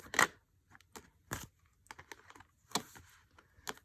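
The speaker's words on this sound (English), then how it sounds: "So let me pull some Angel Answers Oracle cards." Angel Answers oracle cards being shuffled and pulled make a run of quick, crisp card riffles and flicks, with sharp slaps separated by short pauses, close up.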